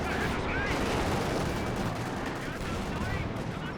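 Dense battle din from an anti-tank gun in the Company of Heroes 2 strategy game, a continuous loud wash of gunfire and artillery blasts with no clear gaps, a voice faintly under the noise.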